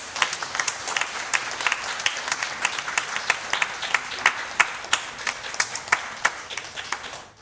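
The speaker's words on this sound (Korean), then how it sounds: "우리 박수로 사임을" Church congregation applauding at a Sunday service, a steady sustained clapping with sharp individual claps standing out, fairly close, fading at the end.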